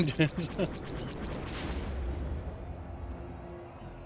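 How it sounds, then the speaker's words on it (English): Torpedoes firing and exploding in the Star Wars: Rogue Squadron video game, a quick burst of sharp blasts followed by a rumbling explosion that fades away. "That was more of the torpedoes, though."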